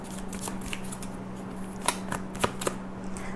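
Tarot cards are shuffled by hand nearby, a soft riffling patter broken by a few sharper snaps and slaps of the deck, fairly quiet with no talk.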